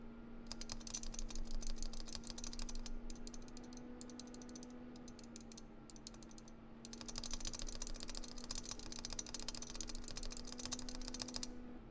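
Custom mechanical keyboard with unmodded stabilizers being typed on steadily, dense clacky keystrokes at close range, pausing briefly midway before resuming, with a constant low hum underneath.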